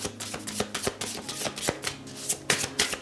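Oracle cards being shuffled by hand in a tarot-style reading, a quick series of crisp riffling snaps and soft slaps in uneven bursts, close and clear, with no talking.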